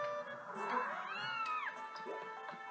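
A cat-like creature in the video game Skyward Sword gives a drawn-out, rising and falling meow over a steady musical backdrop, fairly close and moderately loud.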